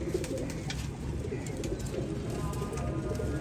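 Soft, repeated cooing of a pedigree breed pigeon over a low background rumble, continuous and fairly close.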